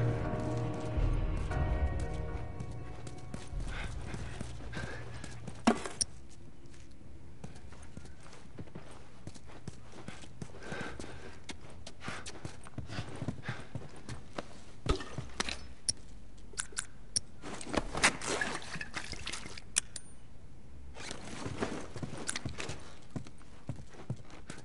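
Horses in The Last of Us video game clip-clop steadily at a walking pace throughout, close and fairly clear, with occasional louder hoof knocks and light background game sounds.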